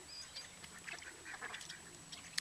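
Birds, apparently ducks, quack in a scattered, overlapping flock at a moderate distance, short calls bunched together and quite faint.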